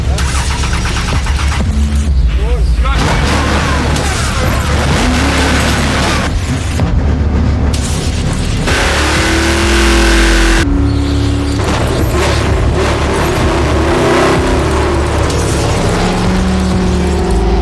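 A drift car's engine, just jump-started after running hot and low on fuel, roars and revs loudly and close by in repeated surges, with voices talking over it at times.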